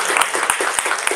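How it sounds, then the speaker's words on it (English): Audience clapping for four city council candidates at a newscast event, a brief burst of steady applause with sharp individual claps, fairly close. "You can clap for them"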